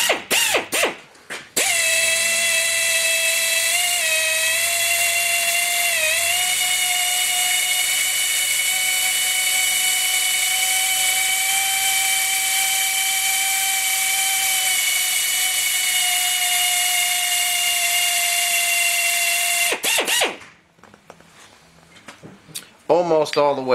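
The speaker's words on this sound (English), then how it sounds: "So we're just going to drill with a 5/16 bit." A drill with a 5/16 bit boring into a Jeep LJ brake part, a loud steady high whine held for about eighteen seconds with slight pitch dips, bracketed by brief clatter at start and end.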